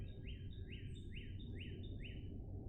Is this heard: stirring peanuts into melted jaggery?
no